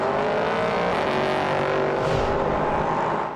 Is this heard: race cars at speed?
yes